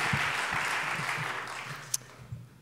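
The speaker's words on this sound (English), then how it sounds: "All these guys deserve a big round of applause." An audience at a summit keynote claps in a broad wash of applause that fades over a couple of seconds and ends with a few scattered last claps.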